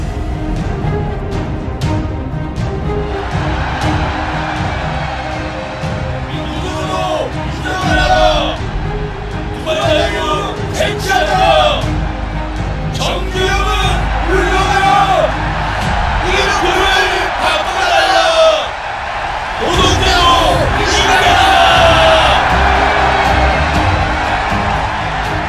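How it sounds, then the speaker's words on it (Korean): A crowd of striking Hyundai Heavy Industries workers in 1987 shouts cheers and slogans in the street, a loud continuous roar of many voices with rising chanted calls. "함성과 구호가 거리를 가득 메웠다."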